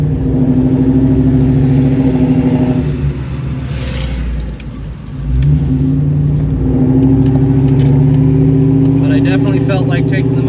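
A 2003 Ford Mustang GT 2V cruises with the windows down on a hot day, its V8 droning loudly and close, dipping briefly in the middle before revving back up, with road and wind noise throughout.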